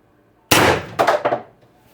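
X-68 Storm Trooper HPA airsoft gun fired at 1100 psi, one sharp loud crack that bursts suddenly, followed by a quick rattling tail of mechanical clatter before quiet returns.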